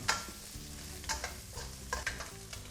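Vegetables sizzle and crackle in a hot pan while being stir-fried, with scraping and clattering of a utensil in irregular bursts, close up.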